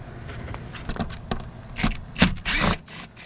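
Ratchet fitted with a T25 socket working on screws under a shield on a 2018-2020 VW Atlas, heard as a close-up series of light metallic clicks and rattles that grow denser near the end.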